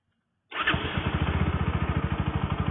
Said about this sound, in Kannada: ನೋಡಿ ಗೈಸ್ ಗಾಡಿ ಸೌಂಡು ಯಾವ ತರ ಇದೆ ಅಂತ